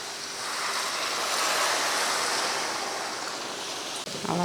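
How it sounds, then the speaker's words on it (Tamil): A steady rush of water pours into a pan of eggplant for several seconds, then cuts off with a small clatter. "கத்திரிக்காய் முங்குற அளவுக்கு தண்ணி ஊற்றிக்கலாம்"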